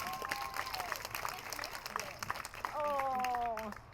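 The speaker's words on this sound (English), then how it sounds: "Give her a big round of applause." A school audience applauds a district health and physical education supervisor at a youth running program kickoff, steady clapping mixed with high cheering voices that swell louder near the end.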